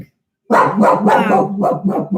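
A pet dog barks up close in a home, a rapid burst of loud, excited barks that follow each other with hardly a pause after a brief silence.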